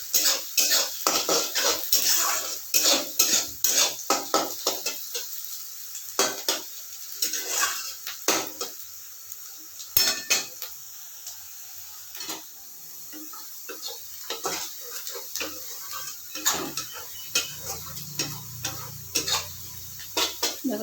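Green chilli is stirred and fried in a pan for garlic fried rice, with a spatula scraping and clinking against the metal in quick irregular strokes over a faint sizzle, close up.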